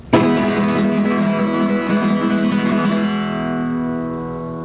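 Rapid flamenco guitar strumming at full speed, dense bright chords ringing continuously for a few seconds before fading out, no voices.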